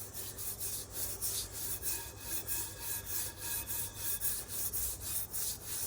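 A pot scrubber scours a soaked, rusty cast iron Dutch oven in rhythmic back-and-forth strokes, a steady raspy rubbing repeated about twice a second, close and moderately loud with no talking.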